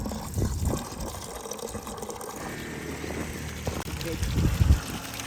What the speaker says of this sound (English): So we'll fill that bucket with water, and we'll just keep cycling water through these for a few minutes.